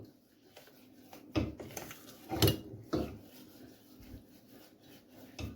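Spoon stirring a thick tamina mixture in a bowl, with a few distinct scraping knocks and clinks against the dish at irregular intervals, close and fairly quiet.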